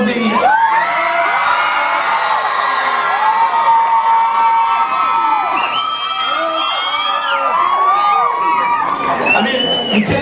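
A large fanfest crowd cheers, whoops and shouts throughout, a loud continuous roar of many voices with higher children's yells rising above it.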